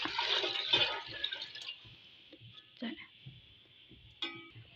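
Water pours and splashes into a pot of masoor dal and rice for a second or so, then quieter trickles and a couple of faint clinks follow.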